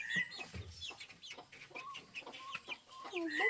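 Chickens cluck in short, repeated calls, fairly close and clear, with a brief low thud partway through and no talking over them.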